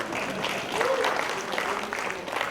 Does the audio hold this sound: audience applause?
yes